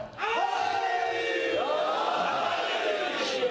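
A large crowd at a 2012 Shia majlis shouts a slogan back in unison, a loud, sustained roar of many voices that carries on for several seconds.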